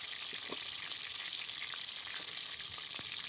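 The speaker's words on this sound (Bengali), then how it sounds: "একটু সময় নিয়ে ভাজতে হবে।" A shol fish head frying in hot oil gives a steady, close sizzle with small crackles and pops scattered through it, with no talking.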